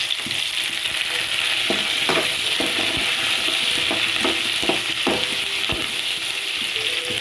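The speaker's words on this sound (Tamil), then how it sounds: "கருவேப்பிலை எடுத்து போடலாம்." Curry leaves sizzle and crackle steadily in hot oil for a South Indian kara kuzhambu base, with a spoon scraping and stirring through the pan in irregular taps over the constant frying hiss.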